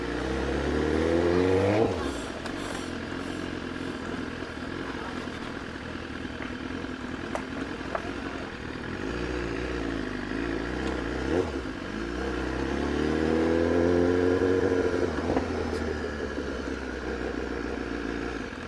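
Traffic noise heard from a motorbike moving through a road, with engine hum swelling and revving at the start and again near the end, continuous rumble throughout and no voices.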